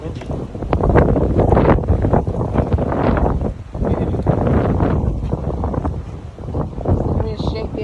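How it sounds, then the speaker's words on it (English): Strong outdoor wind buffets the microphone during beekeepers' installation of a nucleus colony, a loud continuous roar that swells and dips with the gusts, with muffled voices partly buried under it. "it's so windy."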